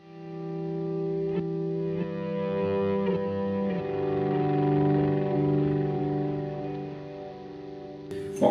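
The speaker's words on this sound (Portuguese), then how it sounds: "E depois tem um swell, que é para isso aqui." An electric guitar through a volume swell effect pedal, notes fading in smoothly without a pick attack and ringing out, a soft sustained passage ending in a brief louder strum.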